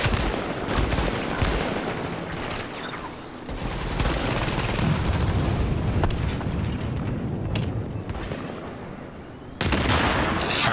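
Sustained volleys of gunfire in the Division Dark Zone, dense and continuous with booming reports, moderately loud, with no speech over them.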